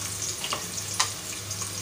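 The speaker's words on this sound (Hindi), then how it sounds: "पहले हम इसमें प्याज डालते हैं।" Sliced onions frying in hot refined oil for chicken pulao, a steady close sizzle with faint crackles and a brief stirring clink.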